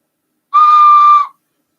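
A homemade wooden dowel whistle gives a single loud, steady, pure tone lasting under a second, alone against silence.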